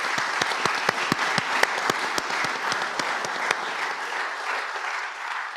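An audience at an all-candidates political debate applauds. Steady clapping runs throughout with some distinct nearby claps standing out, and it thins slightly toward the end.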